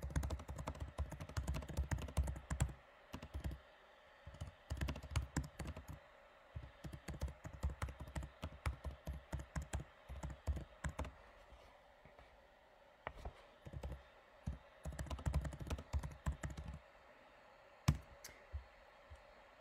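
Steady stretches of typing on a computer keyboard into a chat, quick clattering keystrokes in bursts with short pauses, close but fairly quiet and without speech.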